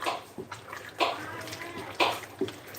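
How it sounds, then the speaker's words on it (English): Spoon stirring a pot of thick homemade bean chili, several wet, squelching scrapes in a loose rhythm, close and moderately loud, with a little background noise. "So I'm just going to give this a stir."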